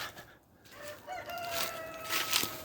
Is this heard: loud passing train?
no